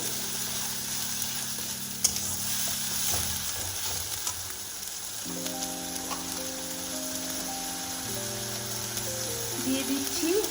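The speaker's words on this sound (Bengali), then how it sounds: "মশলাটা ভালো করে কষে নিতে হবে" Onion and garlic paste with spices sautéing in a pan for a cauliflower and prawn curry, a steady broad sizzle running throughout with faint stirring, while tonal background music plays over it.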